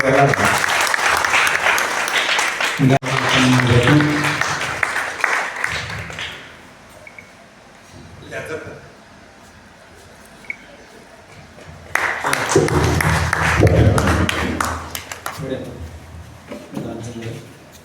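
A crowd at a religious gathering breaks into loud, dense applause that runs for several seconds, fades out, then swells again later, with voices speaking over and between the bursts of clapping.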